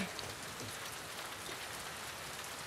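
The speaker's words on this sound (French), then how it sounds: "ce que j'aime beaucoup, c'est l'ambiance de pluie qu'on a. Le bruit est super bien fait" Steady, dense rain ambience from the video game The Last of Us Part II, an even wash of drops hissing on surfaces throughout, with no other sounds.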